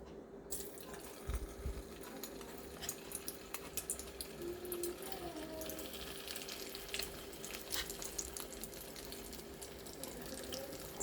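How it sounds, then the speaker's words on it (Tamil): Cauliflower florets frying in hot oil in a home kitchen, giving a steady, dense sizzle and crackle that runs evenly from start to finish with no talking. "எண்ணெய் நல்லா கொதிச்சிருச்சு. இப்போ நம்ம காலிஃப்ளவரை போட்டுடலாம்."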